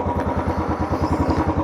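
Royal Enfield Classic 350 single-cylinder motorcycle engine just started, thumping in an even, rapid idle rhythm, close and loud throughout with no talk.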